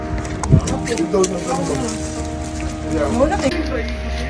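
Rain falls steadily, a constant close hiss of drops on surfaces with a low rumble beneath, while people talk over it throughout.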